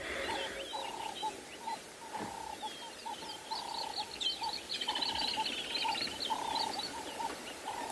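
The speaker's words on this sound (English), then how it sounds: "Definitely that iconic sound of the woodland kingfisher reminding us that it is definitely summer out here." Woodland kingfisher calling repeatedly in African bush on a summer evening, a series of bright trilling phrases mixed with other birdsong and insect buzz, moderately distant with no talk.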